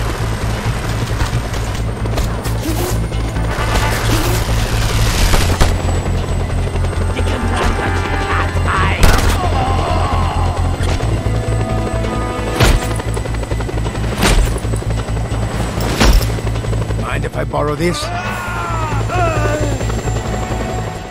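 A Chippewa helicopter in Just Cause 2, its rotor thumping steadily and loudly throughout, with game impacts and bangs cutting in and someone talking over it.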